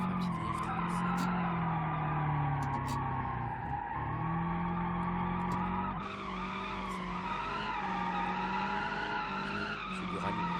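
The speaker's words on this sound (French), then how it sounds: "on va faire un petit drift" A car drifts in the BeamNG.drive driving game, tires squealing in a long sustained screech over a loud revving engine whose pitch rises and falls, continuous and close.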